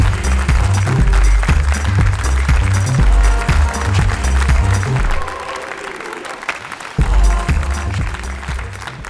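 A studio audience applauds and cheers during an Armenian comedy club show, the clapping loud and dense throughout with thumping bass music underneath, dipping briefly near the middle before surging back.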